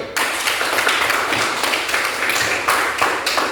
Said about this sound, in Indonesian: Tepuk tangan buat teman dulu